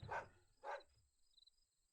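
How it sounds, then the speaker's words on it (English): A dog in the farming video game Pumpkin Days gives two short, fairly faint barks in quick succession, followed by quiet ambient game sound and no talking. "Ah, the dog's barking at me."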